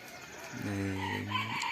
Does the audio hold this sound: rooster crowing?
yes